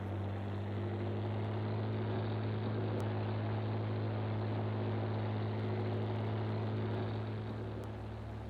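A low, steady video game tractor engine drone under load in Farming Simulator 19 holds a constant pitch throughout, with a smooth humming tone and no voices.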